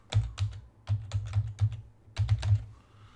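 Someone types a password on a computer keyboard: a quick, uneven run of close, crisp key clicks in short clusters with brief pauses between them.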